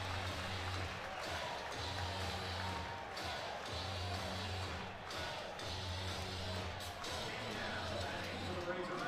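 A home crowd at an NCAA baseball championship game between Tennessee and Arkansas roars steadily after a four-pitch walk, a continuous wash of cheering and applause with a commentator talking over it.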